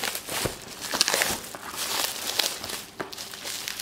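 Plastic bag being torn open by hand, a close, continuous crinkling and ripping of thin plastic with short bursts of louder crackle, with no talk.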